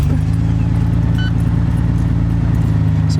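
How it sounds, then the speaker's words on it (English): A Nissan GT-R engine, running steadily and loud up close, holds a deep, even idle-like drone throughout with a brief higher whine partway. "We'll go ahead and start the engine so you can see what's going on here"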